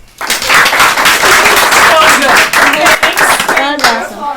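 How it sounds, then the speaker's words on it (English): An audience at a magic show claps in a dense burst of applause, loud and sustained for several seconds before tapering, with voices talking over the end. "Give Claire a round of applause."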